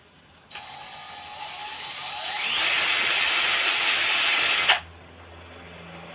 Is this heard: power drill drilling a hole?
yes